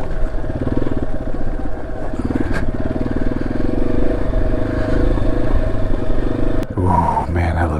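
Yamaha XT250 motorcycle riding into hilly terrain, a steady, loud engine drone with rumbling throughout, ending in a brief clatter.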